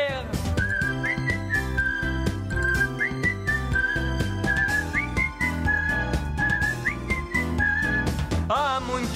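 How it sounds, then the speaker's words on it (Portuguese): A person whistles a bouncy melody over a steady musical accompaniment in the theme song of the cartoon Around the World with Willy Fog, the tune clear and prominent throughout. "Sai um assobio e não há nada a temer."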